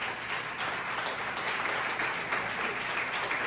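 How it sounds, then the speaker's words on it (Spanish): Audience applause rolls on steadily, a dense wash of many hands clapping at moderate volume without any voices over it. "Déjame un aplauso."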